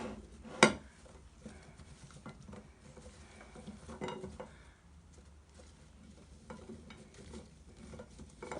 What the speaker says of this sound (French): Je mélange le tout, l'ensemble de mes haricots.